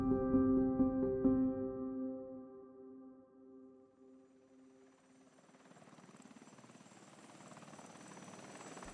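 A helicopter flying in at dawn toward a village in Afghanistan with Australian SAS troops, its rotor thudding loud and close at first, then fading into a distant rushing drone.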